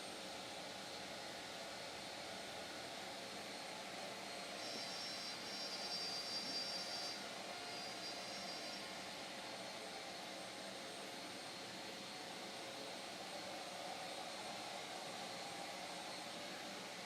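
A BenchPilot CNC spindle cuts at a 45 inch-per-minute feed, giving a steady, fairly faint high-pitched whine with a broad airy hiss that holds throughout without pause.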